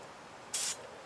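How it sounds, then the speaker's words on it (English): An industrial-rated Sure Shot aerosol sprayer gives one short, sharp hiss of spray lasting about a quarter second, standing out against a quiet background. "the more industrial rated Sure Shot aerosol sprayer."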